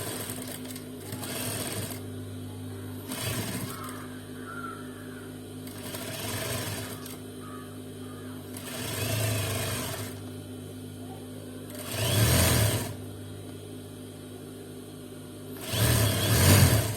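Sewing machine stitching the side seam of an Afghani salwar runs in several short whirring bursts separated by pauses, the bursts growing louder toward the end over a low steady hum.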